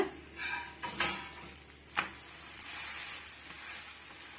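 An oiled parotta frying on a hot pan is flipped with a couple of clattering knocks of utensil against metal, then settles into a steady, soft sizzle.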